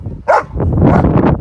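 A Cane Corso lets out a short loud bark near a car, followed by rough close vocal sounds and growly noise. The dog is close and loud and no talk is heard.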